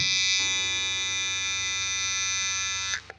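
A Mi hair trimmer buzzes with a steady, high whine at close range, then cuts off abruptly near the end.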